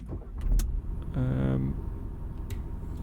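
A bus engine starts up in the Tourist Bus Simulator video game, with a low rumbling motor and a brief rising whine as it turns over, followed by a steady idle.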